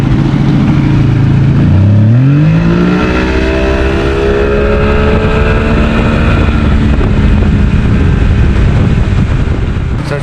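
A 70hp Johnson outboard motor on a Nitro 165 TL bass boat, with a locked-up lower unit, runs up from idle, its loud close pitch rising sharply then holding a strong steady drone with no talking.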